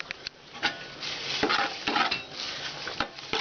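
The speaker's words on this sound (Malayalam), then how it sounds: "ഇത് നന്നായിട്ട് ഇളക്കി കൊണ്ടുവരണം, അല്ലെങ്കിൽ അടിയിൽ പിടിക്കും." A spoon stirs aval payasam, Kerala-style rice flakes pudding, in a pan: steady scraping strokes with soft bubbling and sizzling underneath, close and moderately loud, with no talk.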